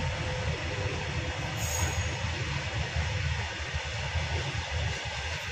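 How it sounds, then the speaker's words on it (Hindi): A train rolls past on the railway track at the Kakori site, a loud steady rumble of wheels and carriages with a brief high metallic squeal partway through, continuous and close. "जो आप ट्रेन जाते हुए देख रहे हैं"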